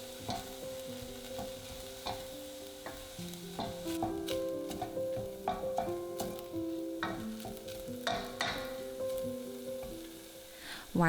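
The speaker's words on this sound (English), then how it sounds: "Sauté the aromatics over medium heat until translucent." Onion and garlic sauté in a pan over medium heat, with a steady sizzle broken by frequent scraping and stirring clatter from a utensil, close and moderately loud, and no talking.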